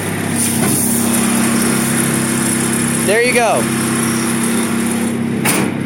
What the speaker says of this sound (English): Little tiny 2-cylinder engine. 360 cubic centimeters of displacement, making 14 horsepower